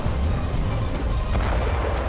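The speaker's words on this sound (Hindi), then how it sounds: "पुतिन सेना ने मोर्टार और आर्टिलरी से भी यूक्रेनी ठिकानों को टारगेट किया है" Artillery and mortar fire on a Ukrainian front line, a dense continuous rumble of booms and distant blasts filling the whole stretch at steady loudness, with no clear gaps between impacts.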